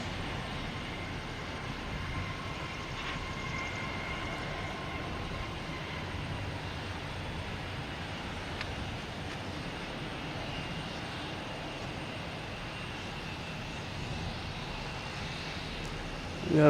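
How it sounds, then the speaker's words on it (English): A JetBlue airliner landing at Boston Logan produces a steady, moderately distant engine roar and rumble, even and continuous, with a faint sharp sound at the very end. "As that JetBlue just came in."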